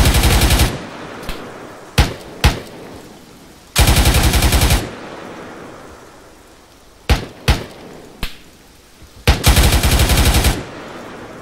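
Bursts of automatic gunfire in the ARMA 3 combat game, loud sustained volleys alternating with sharp single shots, several rapid strings separated by brief pauses, no voices.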